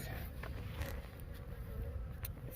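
Honey bees buzz around a Langstroth beehive outdoors, a faint continuous insect drone under low background rumble, with brief louder passes as individual bees fly close.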